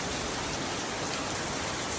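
Heavy rain pours down steadily at a school on the road toward Agiripalli, a dense, even hiss filling the whole moment without a break and without voices.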